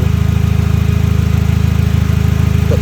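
A MEEP vehicle's engine runs with its exhaust missing, a loud, close, steady throbbing idle with a rapid even pulse and no voices.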